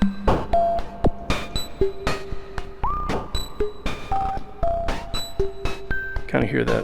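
Kastle Drum synthesizer with noise mixed in, playing short percussive hits and pitched blips in an irregular pattern, some tones sliding in pitch, with reverb tails and bursts of hiss.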